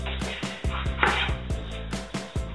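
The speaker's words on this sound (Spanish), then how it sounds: "yo ya estoy cortando aquí los tomates" A knife chops tomatoes on a cutting board for gazpacho andaluz with quick, regular, crisp thuds about five times a second. The cuts are close but fairly quiet, and no one talks.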